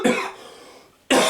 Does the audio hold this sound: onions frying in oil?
no